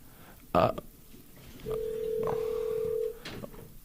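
A single steady electronic telephone tone holds for about a second and a half, preceded by a brief louder burst and followed by faint room noise.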